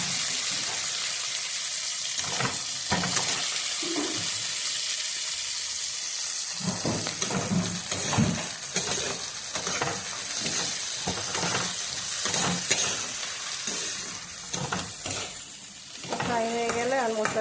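Tomatoes fry with spices in a pan, a steady hissing sizzle under repeated scraping stirs and clatters of a spoon, close and fairly loud throughout.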